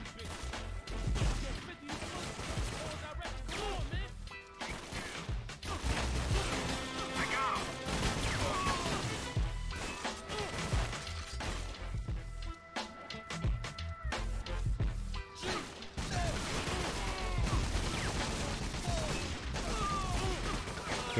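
Gunfire in the PS2 video game 50 Cent: Bulletproof, heavy crashing shots and impacts firing in dense bursts over game music, loud and close, with brief moments of talk.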